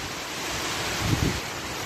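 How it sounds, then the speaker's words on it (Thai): Strong wind roars steadily into the microphone at a durian orchard in Chumphon, Thailand, as rain begins, rising in a louder gust midway, with no voices. "มีลมแรงเข้ามาด้วยครับตอนนี้ครับ"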